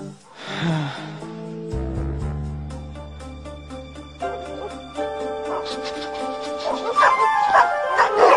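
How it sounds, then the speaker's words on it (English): Several dogs bark and yip in a busy, cluttered scene, their calls mixed with music and other voices rather than standing alone, growing denser toward the end. "Dogs! I mean, dogs! They're everywhere!"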